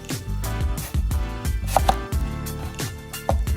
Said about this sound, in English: we're gonna cut the onion in half, cutting right through the hairy part